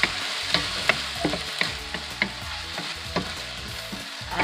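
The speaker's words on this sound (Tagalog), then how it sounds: "let's stir it" Canned Ligo sardines are stirred into a frying pan of mung bean soup base, a soft sizzle broken by rhythmic scrapes and taps of a spoon roughly every half second, close and moderately quiet.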